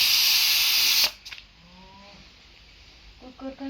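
A pressure cooker vents steam in a loud, continuous hiss that cuts off abruptly after about a second, leaving quiet room sound with brief voices afterward.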